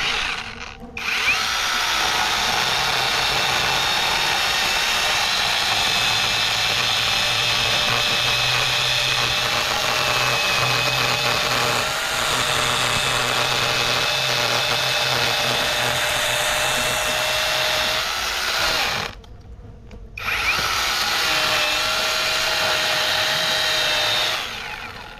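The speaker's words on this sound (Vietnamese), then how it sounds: "mình sẽ sử dụng máy cưa" A chainsaw cuts into a living tree holding a wild bee nest, a loud, steady high-pitched whine running for over twenty seconds with a brief drop in revs partway and a short cutoff near the end.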